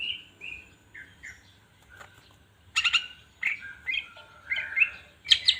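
Green leafbird (cucak ijo) gives a run of varied chirps, whistles and short trills, close and clear against a quiet background.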